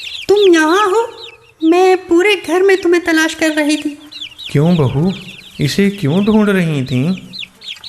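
Chicken clucking sounds alongside someone speaking, with other voices joining. Rising, warbling cluck-like calls weave through the talk and overlap it for the whole stretch.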